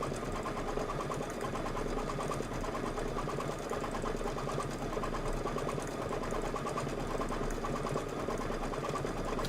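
An embroidery machine stitches a design through fabric in a hoop, its rapid needle running in a steady, continuous mechanical whir that stays close and even throughout, with no one speaking.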